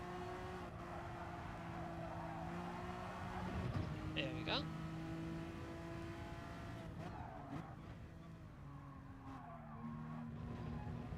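An Indy race car in Gran Turismo Sport drives around a track with a steady engine drone and a brief tire squeal midway, while someone talks over it.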